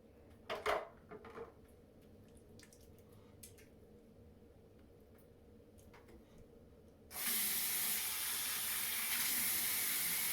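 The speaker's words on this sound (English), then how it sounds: "Kai, wash your hands like Mommy and Daddy have shown you how to do" Steady hiss of a tap running into a sink as a young child washes their hands, starting abruptly partway through after quiet room tone with a few soft knocks.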